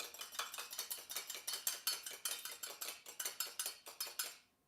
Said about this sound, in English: just give that a little stir on a fork. Just gonna stir that up just right in my measuring cup.